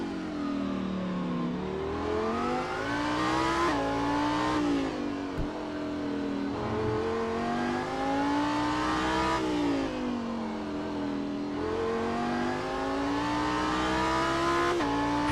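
A Lamborghini Super Trofeo race car engine howls on the Long Beach street circuit, climbing and dropping in repeated rev sweeps through the gears, loud and close throughout.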